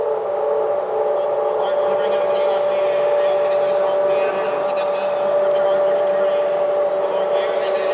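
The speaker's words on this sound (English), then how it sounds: "Taking a little bit of time getting the engine set." Super stock pulling tractor at the line at a 1986 indoor tractor pull, its engine holding a loud, steady droning hum as it is set before the run, with an announcer talking over it.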